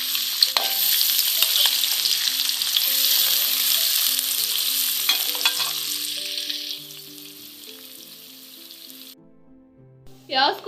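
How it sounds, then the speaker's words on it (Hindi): Onions sizzle and crackle steadily as they fry in hot oil, loud and close, with a spatter of hiss that eases off and grows quieter after several seconds, ending on a brief soft clatter. "अभी इसी तेल में हम डालेंगे प्याज,"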